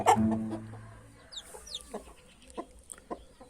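A chicken lets out a loud cluck up close near a nest of chicks, followed by quieter scattered peeps and soft rustling.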